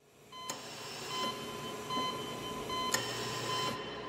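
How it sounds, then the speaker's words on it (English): Steady electronic tones drone over a low hum, with a couple of sharp clicks and a sustained beep-like pitch running throughout. "Now that beeping sound can either be"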